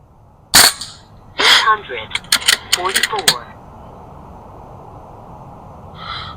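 Beeman 13615 underlever bullpup air rifle firing at a flopper target about 77 yards away outdoors: one loud crisp shot, then a burst of metallic clicks and ratcheting from the cocking lever, and a faint distant tick afterward.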